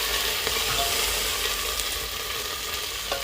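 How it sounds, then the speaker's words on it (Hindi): Finely chopped onions fry and get stirred in a pan with cumin, making a steady, close sizzle with faint scraping throughout. "इसको अच्छे से चलाएंगे"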